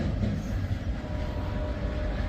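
Norfolk Southern freight train passing up close, a dense continuous rumble and roar of rail cars rolling by without letup, no voices over it.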